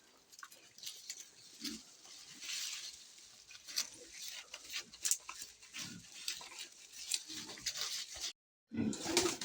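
Pigeons coo softly in a pigeon loft, with repeated low murmuring calls among shuffling and rustling. A dog whimpers nearby, and the sound briefly cuts out near the end.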